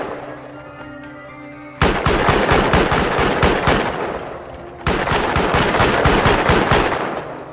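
An automatic turret unloads machine gun fire in the survival game Rust, two long loud bursts of rapid rhythmic shots, the first starting abruptly after a quiet moment and the second after a brief pause.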